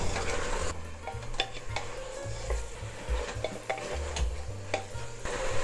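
Freshly crushed ginger garlic paste sizzles in a pan over a medium-high flame for an Old Delhi style mutton stew, with steady frying crackle, repeated stirring scrapes and light clicks against the pan.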